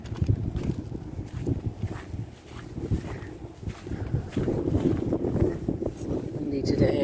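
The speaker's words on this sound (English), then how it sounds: "It's a little windy today." Steady wind blowing outdoors around a parked 2011 Winnebago Vista motorhome, a broad low rumble with gusting buffets against the microphone, continuing under a person talking.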